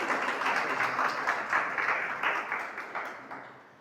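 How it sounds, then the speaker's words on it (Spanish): A church congregation claps together during a sermon, a full, close round of applause with a fast, slightly pulsing patter that gradually thins and fades toward the end. "Dele un aplauso al Señor."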